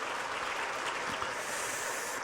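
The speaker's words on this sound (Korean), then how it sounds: "박수 한번 합니다." A church congregation claps after the choir's hymn, a steady, faint wash of clapping from a large room that holds at an even level throughout.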